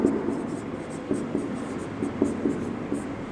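Chalk taps and scrapes on a board in short, irregular strokes, close and fairly clear against a faint background hiss.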